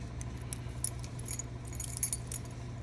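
Metal keys on a key ring jangle and clink in short bursts, close and clear, against a steady low background hum.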